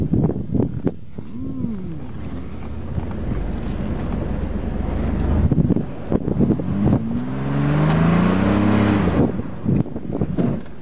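An off-road vehicle mudding through the woods revs its engine in rising and falling surges, with wind buffeting the microphone, splashing and thumps, and occasional voices.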